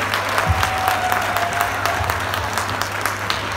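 An auditorium audience applauds soldiers at an Indian comedy event, steady moderate clapping with a low steady hum beneath, no voices on top.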